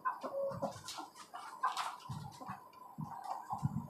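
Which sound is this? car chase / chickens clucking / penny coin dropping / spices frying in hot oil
chickens clucking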